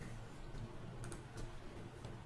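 Computer keyboard typing in a Python notebook, soft steady key clicks running continuously for a couple of seconds at low level, close and alone.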